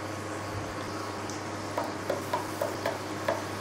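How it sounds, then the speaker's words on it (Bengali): Dal puri dropping into hot white oil one at a time, a steady low sizzle with faint clicks and soft bubbling bursts toward the end, close and quiet with no talk. "তেল গরম হয়ে গেছে, এখানে একটা একটা করে দিয়েই ভাজবো।"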